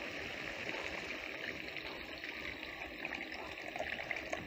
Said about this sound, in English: Once it starts to bubble like that, you add in your tamarind water.